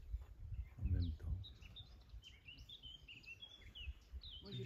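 Birds chirp and sing outdoors in scattered high calls throughout, moderately faint, with a low rumble and brief voices in the background.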